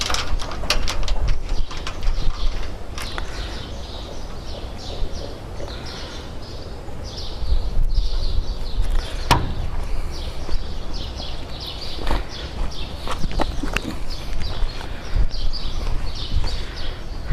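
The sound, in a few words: tightening bolt on solar panel aluminium mounting structure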